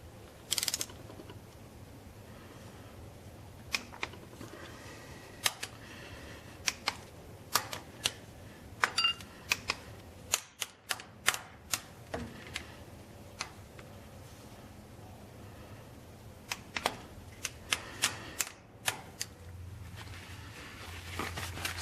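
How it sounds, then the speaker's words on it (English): Torque wrench tightening injectors on a 2001 Cummins diesel engine, heard as a series of sharp, close metallic clicks and ticks in irregular bursts against a quiet background. "Torquing them to 89 inch-pounds."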